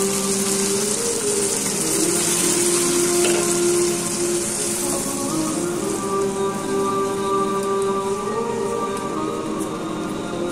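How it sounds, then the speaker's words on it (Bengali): Lentils (dal) tipped into a hot pan for a tangy-spicy dal dish, giving a steady hissing sizzle close by that holds for several seconds with faint stirring scrapes underneath. "এখন ডাল ঢেলে দিব এবং নাড়তে থাকব।"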